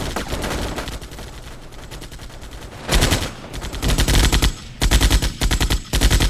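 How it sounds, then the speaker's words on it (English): Bursts of M16 assault rifle fire in the Armored Brigade war game, with ambushing mechanized infantry. Continuous rattling fire opens the clip, then three loud sustained bursts stand out, the last two split by a brief pause. "I'm guessing it probably is an M16 assault rifle."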